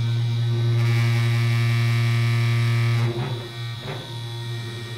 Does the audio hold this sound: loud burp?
no